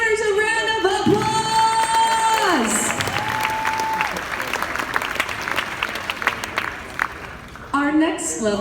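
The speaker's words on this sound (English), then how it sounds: "Let's give our lead donors a round of applause." An audience at a foundation charity auction applauds lead donors, a dense sustained clapping that starts under a raised voice and continues alone before tapering, with speech returning at the end.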